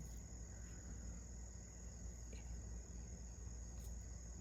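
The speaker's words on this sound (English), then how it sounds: "listening to the birds and what I'm assuming are crickets" Steady high-pitched cricket chirring, a continuous insect drone over a low background rumble, with no one speaking.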